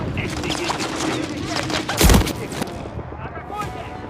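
Bursts of automatic gunfire crackle in the video game Call of Duty Modern Warfare III, peaking in one loud blast midway, with in-game voices talking over the shooting.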